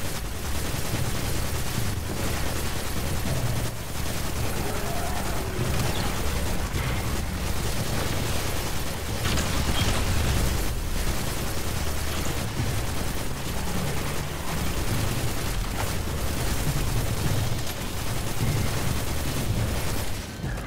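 Ros Arago IV autorifle firing continuously in a video game, a dense, unbroken stream of rapid shots layered with explosive booms and impacts, loud and steady throughout with no voices.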